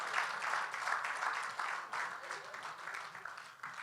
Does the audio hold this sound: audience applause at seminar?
yes